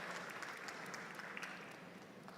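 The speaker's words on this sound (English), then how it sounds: "I think we should give him another round of applause if he's still there." Audience applause for a keynote speaker at a fintech conference in Nigeria, a steady wash of clapping hands held at an even level across the whole stretch, with no voices over it.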